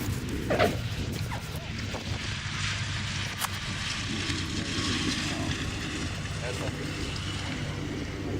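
A B-25 bomber's piston engines drone steadily in the distance at an Oshkosh airshow, with people talking nearby over the engine sound.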